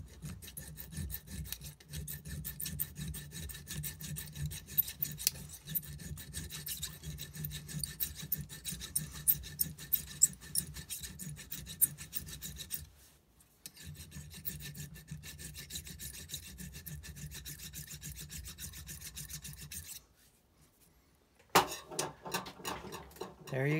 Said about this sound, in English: then start to file.